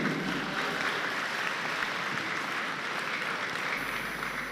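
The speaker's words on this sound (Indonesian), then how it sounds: "Beri tepuk tangan sekali lagi." Steady applause from an audience at a university send-off ceremony for UNNES GIAT students, an even, moderately loud wash of many hands clapping that continues unbroken.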